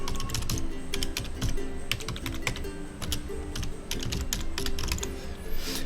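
Quick, uneven keystrokes on a computer keyboard as an email address is entered, a close run of sharp clicks in short bursts with no talking.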